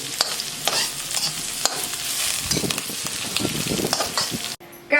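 Green chilli, chopped onion and curry leaves sautéing in a pan over mustard seeds and cumin for poha: loud continuous sizzling with scraping stirs and sharp crackles, cutting out briefly near the end.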